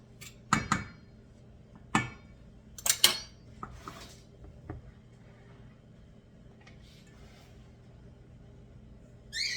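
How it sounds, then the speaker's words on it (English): A spoon scrapes and clinks against a bowl while scooping moist biscuit batter, giving a few sharp, close metallic taps near the start and scattered softer scrapes afterward, with no talking. "I'm going to use the spoon to get this out."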